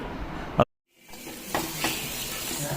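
Karimeen pearl spot fish frying in a pan sizzles with a hissing crackle, cut off by a brief silence before the frying resumes with sharper pops and spits, close and moderately loud.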